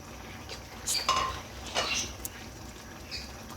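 Chopped cabbage goes into vegetable rice in a pan, giving a few soft scrapes and clinks of a utensil against the pan over quiet room noise, with no talking.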